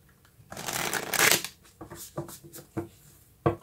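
Tarot cards being shuffled by hand nearby, a quick series of riffling, flapping bursts with a louder swish in the middle and short snaps toward the end, fairly quiet overall.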